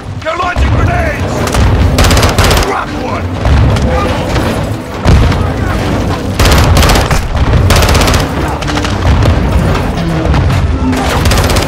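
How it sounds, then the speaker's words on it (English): Heavy gunfire and grenade blasts in a realistic military shooter game, with dense bursts of rifle fire and booming impacts going almost nonstop under shouted voices. "Incoming! Take cover! They're launching grenades!"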